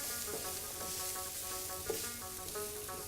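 Spices frying in a splash of added oil in a pan, a soft continuous sizzle with faint stirring clicks, steady and close with no talk.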